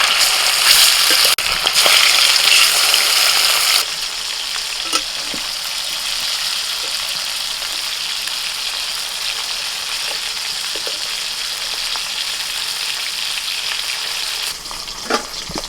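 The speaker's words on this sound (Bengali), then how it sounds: "এবার মাছ ভেজে নিচ্ছি" Loud, bubbling oil sizzle as fish fries, settling into a steady frying hiss with occasional small clicks and spatters.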